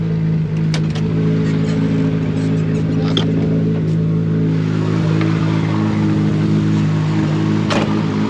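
A BMW E30 with a swapped Toyota 2JZ engine and dual-clutch transmission idles with a deep steady rumble, its pitch holding fairly constant, heard up close with occasional small clicks.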